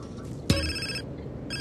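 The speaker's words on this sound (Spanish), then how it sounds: "no voy a coger el teléfono. Puedes llamar todo lo que quieras, que el teléfono no lo voy a coger" A phone rings in GTA San Andreas, a video game, in repeated electronic tones at moderate volume, broken by a brief thump and the low murmur of game sound.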